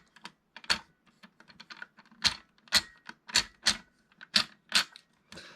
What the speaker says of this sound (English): they've got like a nice ratcheting sound